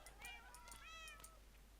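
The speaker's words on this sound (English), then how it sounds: "These cats make the most adorable sounds when you're trying to tame them." Minecraft cats give several soft, rising and falling meows while being tamed in the game, one after another at a quiet level over a low hum, with no speech.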